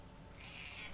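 A pet cat lets out one short, faint meow midway through, set against quiet low background noise.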